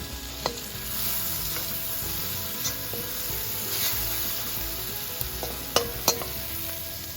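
Onion sautéing in a pan until lightly browned for sisig bangus, a continuous close sizzle with occasional stirring scrapes and a couple of brief metallic clinks, no voices.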